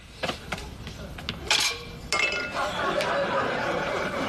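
Groceries (flour, sugar, eggs, butter, vanilla and frosting) are set down beside a mixing bowl, giving a string of close, sharp clinks and knocks, with voices in the background.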